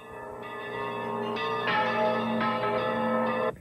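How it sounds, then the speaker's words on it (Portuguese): The church bell of Matriz de Santo Antônio in Tiradentes, Minas Gerais, tolls, with rich sustained ringing tones swelling and overlapping across several strikes before cutting off. "Hoje, o sino da igreja dobrou pelo jornalista."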